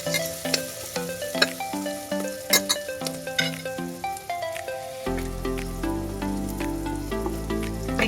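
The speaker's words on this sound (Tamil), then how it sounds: "வெங்காயத்தை நல்லா வதக்கி வச்சுக்கலாம் ஃப்ரெண்ட்ஸ்." Onions and green chilies sautéing in a pan for vegetable pulao, a soft crackling sizzle with occasional clinks, partly masked by loud background music.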